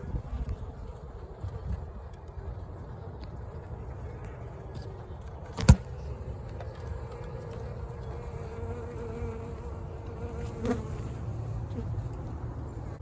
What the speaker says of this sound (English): Got some bees going all over.